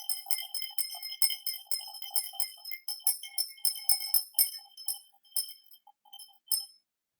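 Water and sand stirred in a glass, producing a rapid run of bright clinks and tinkling taps against the glass that thin out toward the end, close and clear with no talk.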